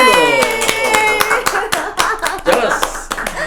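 Applause on a dangdut wedding podcast, a burst of sharp, uneven hand claps from a small group close by, with music and voices running underneath.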